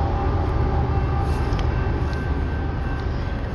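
An empty coal train led by a BNSF Warbonnet locomotive rolls past in Stanwood, Washington. The rumble is loud and steady, with rail noise and clatter from the cars and no voices.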